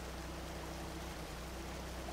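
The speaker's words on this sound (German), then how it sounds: "Das ist ein reißender Fluss." A rushing river in SpinTires produces a constant, dense roar of flowing water, steady and unbroken, heard without voices.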